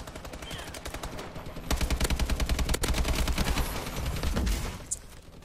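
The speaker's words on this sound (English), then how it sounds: "Why does it take so many bullets to kill people with this AK?" Rapid automatic bursts from an AK-12 assault rifle in Call of Duty: Advanced Warfare, a close, loud, sustained stream of evenly spaced shots with a short pause partway, then tapering off with a final isolated crack.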